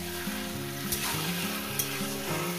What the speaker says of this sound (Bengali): জিরেটাকে আমি এভাবে ভাজবো